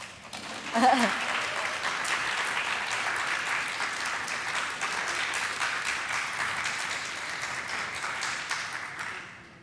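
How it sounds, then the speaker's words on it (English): Sustained audience applause at a symposium on intersex, a dense wash of clapping filling the room and holding steady for several seconds before tapering off at the end, with a brief voice near the start. "Now you can clap."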